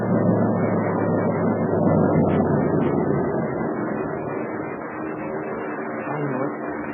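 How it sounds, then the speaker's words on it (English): A steady low engine drone fills the whole stretch, a continuous rumbling roar like enemy aircraft passing overhead at night over the Burma Road, fairly loud and unbroken. "The driver says those are invader planes."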